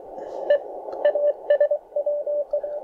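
Morse code CW tone picked up on a Tecsun PL-330 radio: a steady, slightly high buzzy keyed tone in irregular dots and dashes over a hissy background, heard alone.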